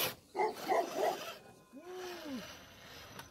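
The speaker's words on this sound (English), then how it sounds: "Got a neighborhood puppy." Neighborhood puppy barking, a few short yips and a whimpering cry, faint and somewhat distant, set against rustling and a brief zipper-like scrape.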